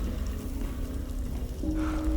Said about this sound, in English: A stroll in the rain.